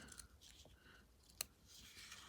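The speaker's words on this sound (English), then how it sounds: "Grab some scissors and we're just going to trim off our end." Scissors snip the end of a ribbon on a handmade card: one crisp, sharp cut stands out against soft, quiet rustling at close range.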